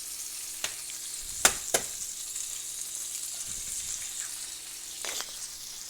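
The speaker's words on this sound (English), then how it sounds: "just crack them right into the pan" Eggs cracked into a hot pan for an egg bean paste fry with a faint, steady hiss, broken by a few sharp clicks and taps near the start and again toward the end; no voices.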